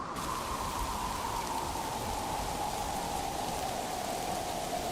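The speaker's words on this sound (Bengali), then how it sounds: "এই বৃষ্টি এখন বীজের জন্য সেচের কাজ করবে" Steady rain pouring down in a rural field during a storm, a dense continuous hiss that stays even and loud throughout with no pauses.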